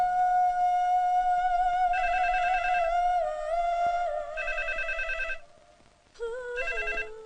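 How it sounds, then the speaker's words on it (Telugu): A telephone rings in a Telugu comedy film scene, a steady electronic ringtone repeating in bursts over about seven seconds, loud and close, with a brief dip before it resumes. "వెంటనే అల్లుడు గారికి ఫోన్ చేసి చెప్పు."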